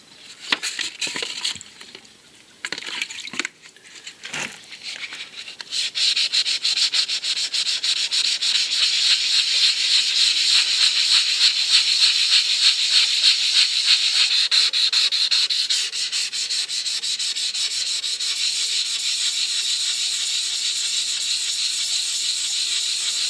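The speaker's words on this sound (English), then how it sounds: "I'm going to be doing wet sanding, and I've got a 400" Steady wet sanding of sun-damaged car clear coat with 400-grit sandpaper, a continuous hissy rubbing scrape that starts after a few scattered handling noises and runs on evenly at close range.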